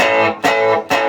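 A distorted electric guitar power chord, hard-hitting and saturated, struck three times in a steady rhythm with brief gaps between the loud, sustained strums.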